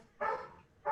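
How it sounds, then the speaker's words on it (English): A dog barks twice in the background, short distant yaps spaced under a second apart, faint and alone. "What, barking dogs in the background?"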